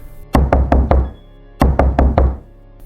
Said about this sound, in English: 3 hard knocks.